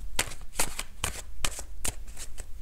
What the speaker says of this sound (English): as I'm shuffling, I'm thinking